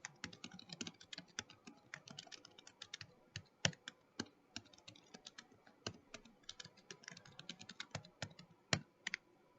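Keys clatter on a computer keyboard as a command is typed, a quick, uneven run of close, crisp clicks with brief pauses between bursts and no voices.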